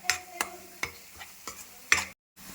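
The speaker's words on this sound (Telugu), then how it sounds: "అవి బాగా ఫ్రై అయ్యే వరకు ఫ్రై చేసుకోవాలి." Masala spices frying in a pan for restaurant-style mushroom gravy, with a spoon scraping and stirring in a few sharp, close strokes over a low steady sizzle.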